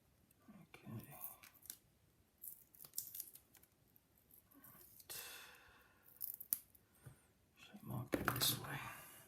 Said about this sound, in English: just try to slice through that tape